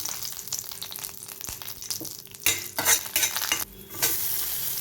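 Pirandai (adamant creeper) being sautéed in a pan, giving a steady sizzle with scraping stirs that grow louder and more frequent toward the end, close up and with no talking.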